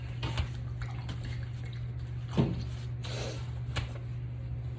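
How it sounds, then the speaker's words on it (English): A skinny paintbrush swished and rinsed in a water container, giving soft intermittent splashes and light taps against the cup over a steady low hum. "Let's go ahead and rinse that skinny brush off."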